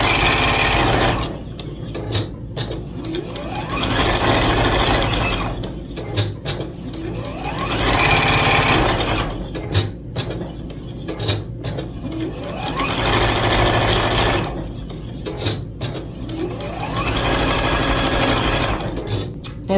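A sewing machine stitching a honeycomb quilt border, its rapid needle hum running in long close bursts with short pauses between runs, repeated several times.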